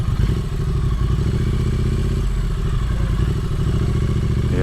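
A Triumph Street Twin motorcycle rides along on an evening cruise, its engine a loud, steady throbbing drone with wind rumble and faint rattles throughout, no voices.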